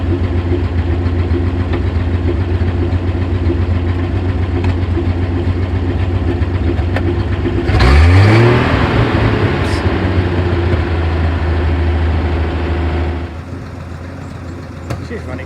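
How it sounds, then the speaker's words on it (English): An International KS4 World War II truck engine idling loudly and close with a steady low rumble, revving up sharply at about eight seconds, then dropping back and quieting near the end. "Let's see what it does when I rev it."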